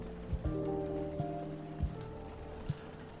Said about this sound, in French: Sympa la pluie.